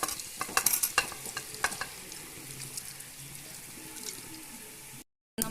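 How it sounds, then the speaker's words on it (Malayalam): Spicy beef biryani masala is stirred in a pan with pressure-cooked beef added, giving scraping spoon strokes and a soft sizzle. The strokes are clustered early, then fade to a quieter simmer before a brief dropout. "നമ്മൾ നന്നായിട്ടൊന്ന് ഇളക്കി കൊടുക്കാം."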